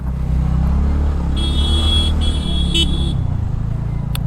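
Road traffic near Marayoor, on the way through sandalwood forest toward Vattavada: a steady close engine drone with two long car-horn honks and a brief toot over it.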